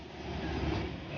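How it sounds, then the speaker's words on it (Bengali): The Darjeeling toy train runs through Kurseong town with a brief, steady low rumble of wheels and carriages, faint and unbroken, without voices. "কার্শিয়ং শহরের মধ্যে দিয়ে ছুটছে ট্রেন।"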